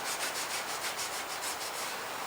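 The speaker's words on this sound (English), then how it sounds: "I'm still hand sanding, but I'm keeping my sandpaper in the corner," Hand sanding of a damaged car's body paint with sandpaper held into a corner, giving a steady close rasping rub in even back-and-forth strokes, with no talking.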